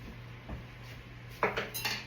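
Metal whisks handled in a kitchen, a few light clinks and rattles, the first soft and isolated, then a quick cluster of brighter metallic clatters near the end over a low steady hum.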